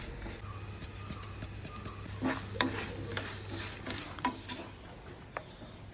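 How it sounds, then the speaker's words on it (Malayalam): Grated coconut being stirred and roasted in a dry pan for unniyappam, with a soft steady sizzle and occasional scraping clicks of a spoon, heard up close. "അപ്പോൾ അത് നമ്മൾ തേങ്ങ വറുക്കുകയാണ് കേട്ടോ"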